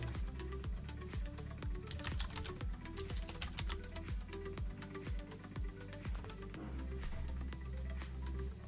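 Rapid typing on a computer keyboard while working on game development code, steady clatter of keystrokes close up, continuous with no talking.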